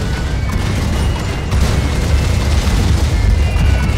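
Heavy, continuous booming and low rumbling of cannon fire in the tower defense game Tower Wars, loud and dense with no clear gaps.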